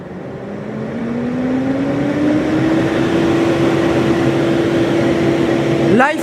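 A TERI built-in central vacuum cleaner motor runs steadily, its whining tone climbing gradually in pitch as the power is raised, loud and close, with a brief clunk near the end.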